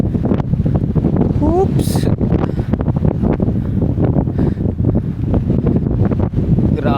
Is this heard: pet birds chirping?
no